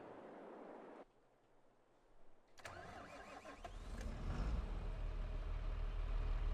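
A tractor engine in Farming Simulator 22 cranks and catches after a short quiet stretch, then settles into a loud, rising rumble that grows heavier and steadier as it warms up.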